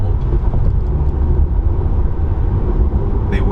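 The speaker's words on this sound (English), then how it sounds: "Now there is a fair bit of road noise, but it's not too bad" Tire and road roar inside a 2021 Tesla Model 3 Standard Range Plus as it accelerates, a steady loud low rumble with wind noise and no engine note, and no talking.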